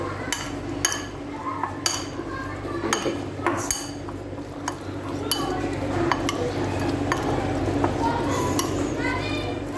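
Masala-coated chicken being mixed by hand in a bowl for fajitas, with intermittent clinks and taps of utensils against the dish while someone talks throughout over a low background hum.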